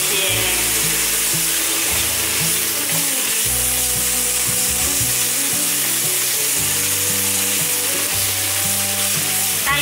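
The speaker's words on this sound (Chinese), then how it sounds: "把豆包浆切，用铲子切一切" Bean curd paste frying in oil in a wok, sizzling loudly and steadily throughout while a spatula chops and scrapes at it, with no talking.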